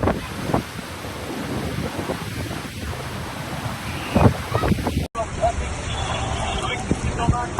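Strong tornado winds roar during a storm in Ballito, KwaZulu-Natal, a loud, gusty rush buffeting the microphone with heavy low rumble, while voices can be heard through the noise.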